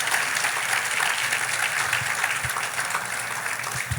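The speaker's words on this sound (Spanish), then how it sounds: "Dale un fuerte aplauso al Señor, a su nombre gloria." A church congregation claps loudly and steadily during a Spanish-language fasting service, a dense continuous wash of hands with no break.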